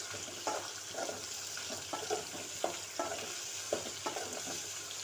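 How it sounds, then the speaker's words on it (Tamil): Radish sautés with tamarind and salt in a pan for mullangi chutney, a soft continuous sizzle broken by regular scraping stirs of a spatula, close and moderately quiet, with no talking. "புளி கொஞ்சம், சட்னிக்கு தேவையான அளவு உப்பு போட்டு நல்லா வதக்கிக்கலாம்."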